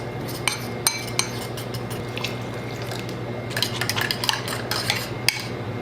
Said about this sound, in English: And then just whisk it.